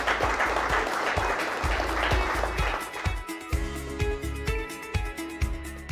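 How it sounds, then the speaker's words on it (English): Audience applause for a pair of presenters at a Pioneer Z-Series soybean premiere event: steady crowd clapping fills the first half, then thins as an upbeat music track with a strong beat takes over. "Well, let's give another round of applause to Don and Liz."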